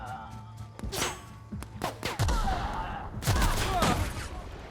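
Gunshots in The Outer Worlds crack out in sharp, separate bursts and short clusters, loud and close, with a voice briefly heard among them.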